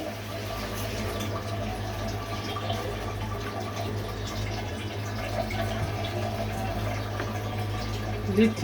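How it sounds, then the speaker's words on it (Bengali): Kewra water being poured into a dish of food, a soft steady liquid trickle heard close up over a low constant hum, gentle and continuous for several seconds. "এই পর্যায়ে এসে আমি কেওড়া জল দিয়ে দিচ্ছি"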